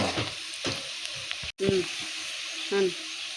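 Pieces of goat tripe (boti) frying in a pan, a steady sizzle with a few stir scrapes, and someone speaking briefly over the cooking.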